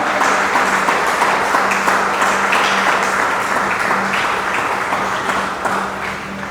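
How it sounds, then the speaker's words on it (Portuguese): Church congregation applauding loudly and continuously, a thick steady roar of clapping that fills the room and fades slightly toward the end. "Aplaudo o nome do Senhor mais uma vez."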